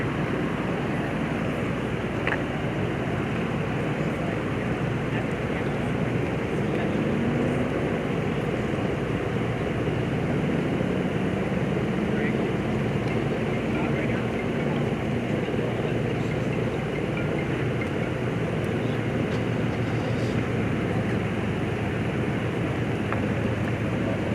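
A helicopter flies over the scene of a shooting at Cook's Corner biker bar in Orange County, California, giving a steady, droning rumble that holds for the whole stretch with no voices.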